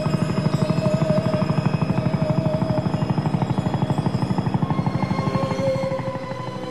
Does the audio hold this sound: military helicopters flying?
yes